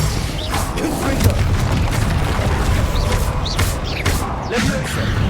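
Spell impacts and booming blasts in Hogwarts Legacy, including the Confringo fire spell explosion, a run of rumbling thuds and crackling bursts over dense low-end game noise, loud and close.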